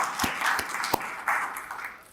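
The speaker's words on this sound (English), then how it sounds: "We can clap for that." Indoor audience at a Georgia DOT transportation event, scattered clapping that swells briefly and tapers off, moderately loud, with a few louder individual claps and no speech over it.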